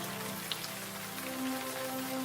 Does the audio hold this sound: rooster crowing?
no